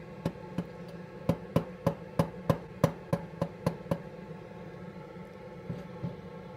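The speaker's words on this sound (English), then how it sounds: "what I'm doing is just tapping it with that paper in between, and it's going to show me where it's hitting" A broken dental splint in an orthodontic lab is tapped against articulating paper, giving about a dozen sharp, evenly spaced clicks close up, then a couple of fainter taps as it trails off.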